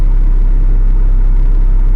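A 1991 Toyota Starlet GT Turbo, right-hand-drive JDM car, idles with a steady low rumble and faint whir, held close and constant throughout with no talk.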